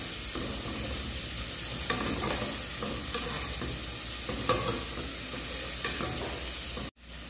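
Onion sautéing in a pan for a farofa with calabresa and bacon gives a steady, close sizzle throughout. A few light utensil taps sound over it, and a brief dropout comes near the end.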